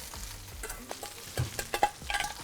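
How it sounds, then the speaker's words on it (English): Chicken and grapes browning in a hot pan give off a soft, uneven sizzle, with scattered crackles and pops that grow busier toward the end; no one speaks. "It's sizzling nicely."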